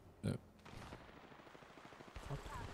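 A short burst of gunfire cracks out in Apex Legends, followed by quieter shots under players chatting in Icelandic.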